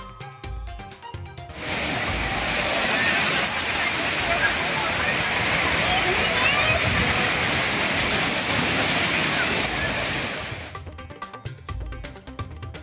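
Thirparappu waterfall pours in a loud, steady broadband rush of water that fills most of the clip, with quieter background sound before it swells in and after it fades.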